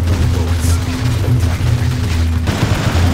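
Covering fire in the video game Fuse, loud continuous automatic gunfire with heavy booming impacts and a low mechanical drone, dense and unbroken throughout.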